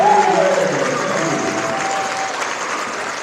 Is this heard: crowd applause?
yes